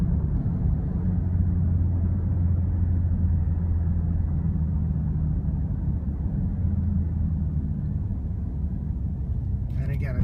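A 2015 BMW X6M driving downhill and swinging through a U-turn, its engine giving a steady low rumble and road roar that holds throughout, close and continuous, with a brief brighter noise near the end.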